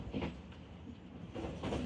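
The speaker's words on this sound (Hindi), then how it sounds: "अभी हम गुजरे हैं दरिया रावी के ऊपर से" A train rolls over the railway bridge across the Ravi river, its wheels giving a rumbling rhythmic clatter that swells in two bursts, with no voices.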